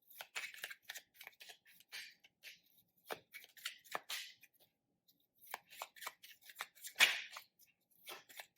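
Tarot cards shuffled and drawn during a reading, soft close papery flicks and slides in short irregular clusters with brief pauses, one slightly louder snap near the end.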